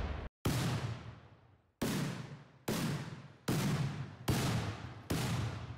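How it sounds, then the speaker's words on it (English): Ship weapons fire shield-depleting shots in a Rimworld ship battle, a series of about seven loud booming blasts at regular intervals, each trailing off in a long rumbling decay. "here come all the shield generator depleting shots"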